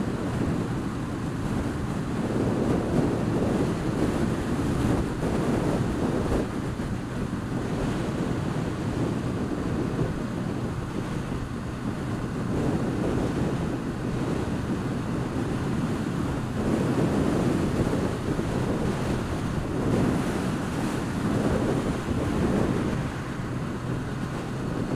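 Outdoor wind buffets the microphone in a continuous low roar that swells and eases in uneven gusts, heard alone with no talking.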